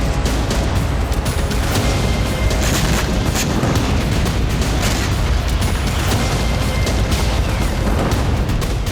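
A missile strikes a power grid site in wartime, its loud, rough blast and roar filling the air continuously with crackling bursts throughout.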